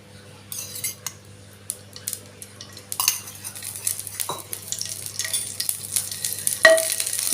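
Green chillies frying in about a spoonful of oil for a North Karnataka raw tomato chutney. Quiet at first with clinks of a metal spoon, then a rising sizzle with scraping and clattering of utensils against the pan.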